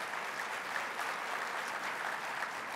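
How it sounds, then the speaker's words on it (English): Large audience of about 1,465 applauding at a 2015 State of the City address, a steady, dense wash of clapping filling the hall without pause. "Give yourself a round of applause for that."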